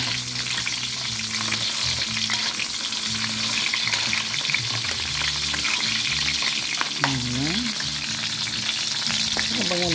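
Big chunks of onion sizzle steadily in a pan for sinigang na miso with pork shoulder, with continuous frying crackle and occasional scraping stirs throughout, close and fairly loud.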